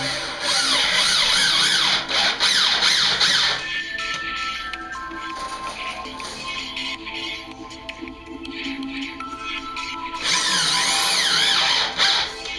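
A power drill drives stainless steel screws into the wooden base of a pallet for a top-bar beehive, whining loudly in two long bursts at the start and end with quieter handling noise between.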